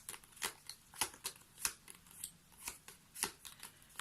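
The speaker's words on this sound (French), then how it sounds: "Je mélange les cartes." Tarot cards are shuffled by hand in a quiet room, a rapid series of soft, close riffling flicks and slaps in irregular bursts, several per second, without talk.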